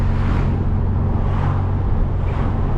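A Ferrari 296's V6 engine rumbles steadily and loudly from close by, a continuous low, throaty drone with no pauses or spoken voices.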